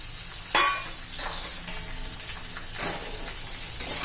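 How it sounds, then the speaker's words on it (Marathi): Carrot pieces sautéing in oil for a spinach and carrot dish, with a steady hiss and a few louder stirring scrapes spaced through it. Close, with no voices. "याही चांगल्या परतून घ्यायच्या तेलामध्ये"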